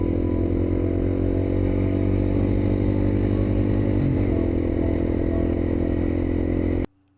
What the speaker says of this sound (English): riding my motorcycle.